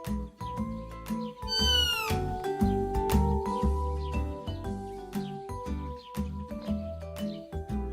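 A cat meows several times in drawn-out, rising and falling calls, close and clear, with short gaps and some clattering around them.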